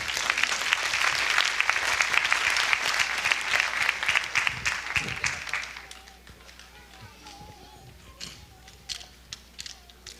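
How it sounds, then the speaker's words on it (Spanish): Congregation at an evangelical church service bursts into loud, dense applause that holds for about six seconds, then thins to scattered claps and taps as the room quiets. "denle un fuerte aplauso al Señor."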